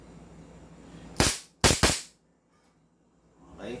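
An airsoft HK417 or Staccato 2011 fires two sharp, loud cracks in quick succession, close by, followed by quiet.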